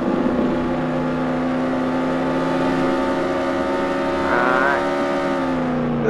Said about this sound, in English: This is the level 5 engine test for the Lamborghini.